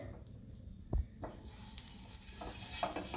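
Oil is rubbed across a hot dosa tawa with a half onion for masala dosa, giving a soft, steady sizzle broken by a few short scraping strokes against the pan.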